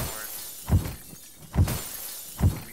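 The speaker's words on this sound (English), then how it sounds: "I was breaking the glass so I could have a way to set up my backlight" A glass window shatters from punches in the Arma video game, three sharp breaking bursts spaced evenly about a second apart, close and loud with no talk.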